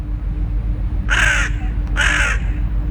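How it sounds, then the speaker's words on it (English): A hooded crow with a gray chest calls outdoors in Norway, two harsh, loud caws about a second apart over a low background rumble. "Meet me and my friend the crow. The crows here are a little different. They've got a gray chest on them"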